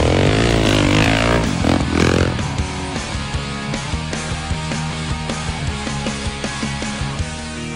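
A four-wheeler engine droning and revving while riding desert trails near Moab, loud and close with shifting pitch early on, then a steady rumble with rhythmic bumps and clatter over the terrain.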